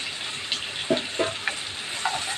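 Sliced onion and garlic sautéing in a pan, a low sizzle punctuated by several sharp spoon scrapes and taps against the pan, nearby with no talking.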